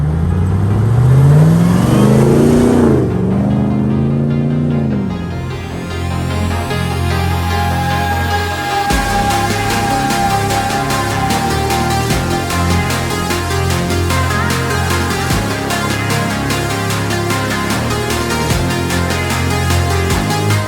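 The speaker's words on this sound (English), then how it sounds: "powered by our LT4 650 horsepower engine with 8-speed" A powerful 650-horsepower LT4 V8 car engine with an 8-speed automatic revs up loudly, its pitch climbing, then settles into a sustained heavy roar that holds steady to the end.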